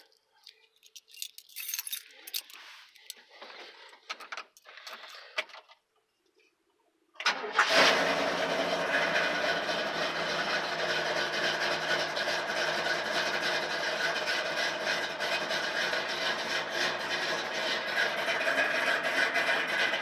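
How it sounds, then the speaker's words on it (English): A 1971 Chevrolet C20 truck is fired up after some faint rustling and key handling, its engine catching abruptly and then idling steadily and loudly for the rest of the clip. "And then real quick, just to fire it up, because I like to hear it run."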